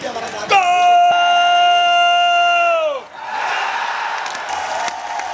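A large crowd roars and cheers at the India–Pakistan border ceremony as Pakistani soldiers enter, opening with a long, sustained shouted cry, then breaking into a dense, loud wash of crowd noise.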